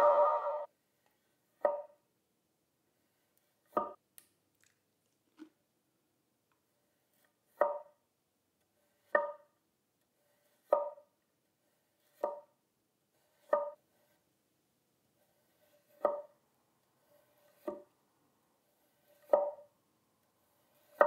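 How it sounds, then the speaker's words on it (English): A honyaki nakiri knife cuts through food on a board in a dozen crisp, evenly spaced chops, close and clear against silence. "What do you say we get cutting? I'm using this Nakiri."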